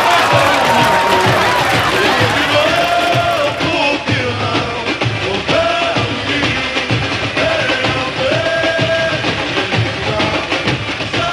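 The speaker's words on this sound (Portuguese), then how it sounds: "Palmas para a parte plástica do Salgueiro, palmas! E com gritinhos" Loud carnival crowd at a Salgueiro samba school parade review, 1987, with continuous cheering, yelling and whoops over a dense roar, voices shouting throughout the whole stretch.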